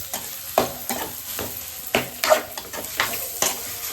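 Onions, tomatoes and masala sauté in a pan for goat head curry with a steady sizzle while a spoon stirs and scrapes in a regular rhythm, close by.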